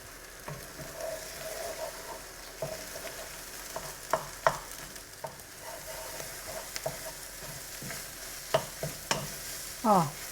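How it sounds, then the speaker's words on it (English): Egg being scrambled in a pan while frying for egg-fried rice: a soft steady sizzle with scraping stirs and sharp utensil clinks against the pan at intervals, and no voices. "And the egg is cooking up gently."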